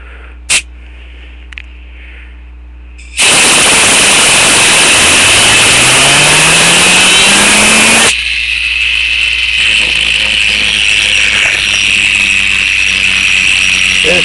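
A homemade gyroscope spins up to speed, starting with a sudden loud whirring roar. The roar holds with a rising tone, then drops to a steadier, quieter high-pitched whine as it keeps spinning, close to the microphone.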